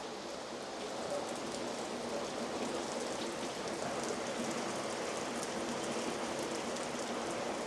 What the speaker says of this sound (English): it is absolutely tipping down with rain.